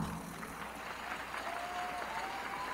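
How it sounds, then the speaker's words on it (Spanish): A crowd at the Miss Mexico 2023 pageant final claps steadily in a dense wash of applause, with faint cheering mixed in. "Fuerte el aplauso"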